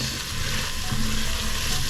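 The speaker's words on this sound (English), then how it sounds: "This is sizzling nice." Food sizzles and crackles steadily in a pot, a loud, continuous frying hiss with no talking.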